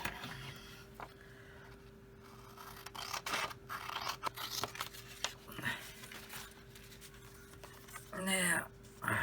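Scissors snip through white paper while shaping a gingerbread-house roof piece, with soft intermittent cuts and rustling under a quiet room hum and a crisp burst of paper handling near the end.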